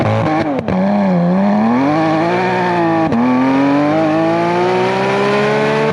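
A 245hp petrol Skoda Octavia vRS estate engine revs loudly and steadily, its pitch sweeping up and down through one continuous blare.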